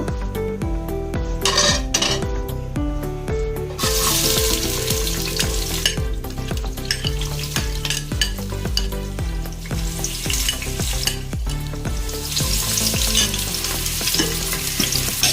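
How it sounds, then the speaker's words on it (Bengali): Chopped onions fry in hot oil for a pressure-cooker fish dish, giving a constant close sizzle with repeated stirring and utensils scraping and clinking on the pan, and no talking. "পেঁয়াজটি খুব বেশি ভাজবো না"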